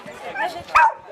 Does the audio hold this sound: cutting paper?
no